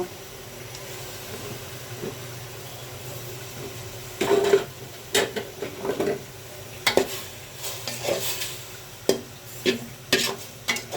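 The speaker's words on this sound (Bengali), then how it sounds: "মাংসটা দিয়ে আমি এখন ঢেকে দিব, আস্তে আস্তে কষুন।" Meat is fried with turmeric, ginger, cumin and other spices for haleem: a low continuous sizzle with repeated scraping and knocking of a spoon against the pot as it is stirred in irregular bursts.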